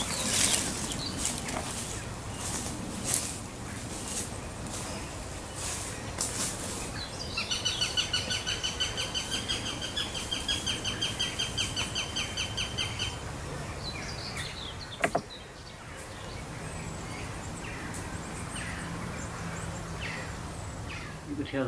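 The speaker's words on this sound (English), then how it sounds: "You could hear the female calling." A female bird calls from the trees nearby during a nature walk, her repeated chirping calls running in a steady series amid rustling ambient outdoor sound, with no talking.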